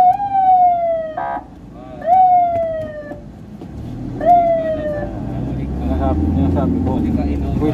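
Ambulance siren on a Manila road, heard from inside a vehicle: several rising-falling wails in separate bursts, fairly close, with someone talking over the traffic rumble.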